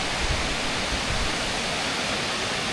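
The Shirahige (White Beard) waterfall in rural Hokkaido gives a constant broadband roar of falling water. No one speaks over the steady rush.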